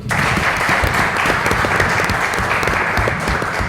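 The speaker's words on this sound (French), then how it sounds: "je vous prie également d'applaudir" An audience applauding steadily at a game show on a studio set, a dense, even wash of clapping that holds for several seconds without a break.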